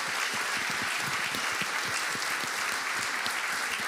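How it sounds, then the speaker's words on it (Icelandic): An audience at a Kotmót gathering applauds steadily, a dense wash of many hands clapping close and loud throughout, without voices. "ég vil að við klappum fyrir því"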